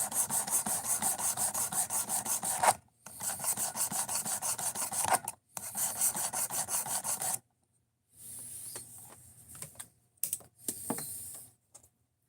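A knife blade is sharpened by hand on a stone in long, steady rasping strokes, working in bursts separated by short pauses, fairly close and clear with no voices.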